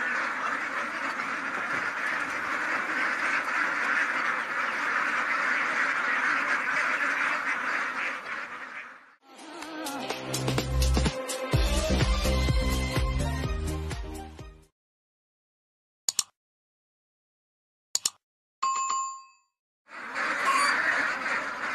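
Ducks on a duck farm in Ormoc, Leyte, Philippines: a loud, dense chorus of quacking from a large flock, then a stretch of sharper clustered calls, broken by brief silences before the flock noise returns.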